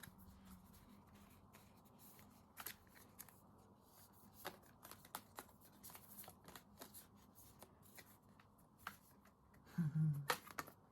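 Moonology oracle cards shuffled by hand, with soft riffling rustles and light flicks scattered through a quiet room, ending in a louder burst of card handling.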